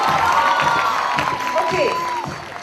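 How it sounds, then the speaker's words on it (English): Applause and cheering from an audience at a closing ceremony, honoring the team leader: a steady, dense wash of clapping lasting throughout, with a sustained tonal sound running over it. "Come on, round of applause to the team leader."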